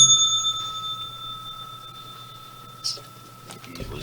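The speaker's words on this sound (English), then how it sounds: "This bell's for y'all." A bell is rung in celebration after a good bingo during a live futures trading broadcast, its bright sustained tones ringing out clearly near the microphone and decaying slowly, with a brief knock and rustle toward the end.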